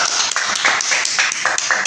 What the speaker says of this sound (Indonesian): Tepuk tangan coba.